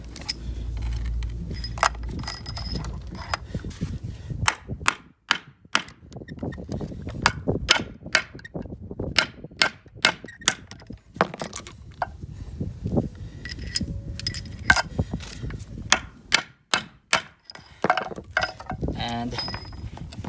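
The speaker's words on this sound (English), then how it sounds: "So we're going to hammer it down." A hammer strikes a pin punch again and again to drive off a car wheel lock, sharp metallic clinks ringing out in uneven bursts, close and loud, with scraping and handling noises between strikes.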